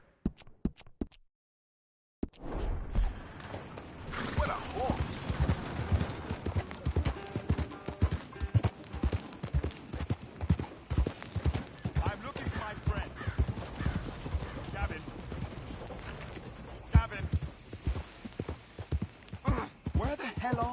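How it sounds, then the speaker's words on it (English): Horse hooves clip-clop in a steady walking rhythm, close and clear, continuing for a long stretch after a short silence, with people talking over parts of it. "What a horse!"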